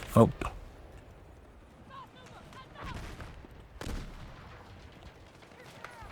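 Gunfire in the video game Battlefield 6 sounds as a few sharp shots, a quick pair at the start and more scattered later, amid quieter background game sounds and voices.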